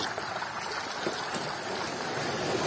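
Spring water trickling from a tap on a mountain forest path near the sea, a steady close splashing flow with broadband hiss and no pauses.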